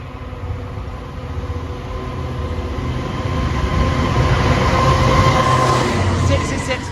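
A freight train runs through a station on a move from Ableford Sidings to Milford West Sidings, a steady rumble of wagons that grows louder toward the end, with a faint high whine above it.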